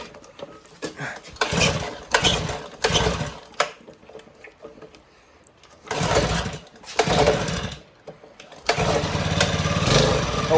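A turbo V-twin lawnmower engine, close and loud, cranks in several rough bursts with pauses between attempts, then catches and runs steadily through the final seconds.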